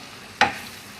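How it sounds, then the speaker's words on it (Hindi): A spoon stirs a roasting gram-flour mixture in a pan for dahi wali mirch, a single brief, fairly loud scrape-and-sizzle that quickly fades. "अब इसको हम तकरीबन 2 से 3 मिनट अच्छी तरीके से भूनेंगे"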